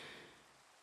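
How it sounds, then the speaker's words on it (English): Soft rain patters steadily in a fishing scene inside a video game, heard faintly and alone for under a second. "Fishing in the rain."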